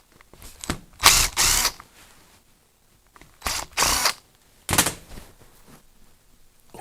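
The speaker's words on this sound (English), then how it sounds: "Take this cover off, 2 screws." Screws are backed out of a Bosch starter motor cover in a few short bursts from a power driver, each buzzing for about half a second with quiet pauses in between.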